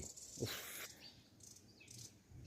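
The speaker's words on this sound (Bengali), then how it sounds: "এখানে কত রকম যে পাখি ডাকছে" Several bird calls and chirps ring out in bursts, high and fairly near, over a faint steady outdoor hiss, with no talking, at a hillside resort in Naddi, Himachal Pradesh.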